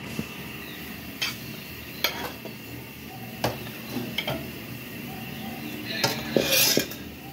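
Metal pots and utensils clank and scrape intermittently in a kitchen as chicken adobo is moved into a casserole pot, a series of short knocks over a steady low background hum.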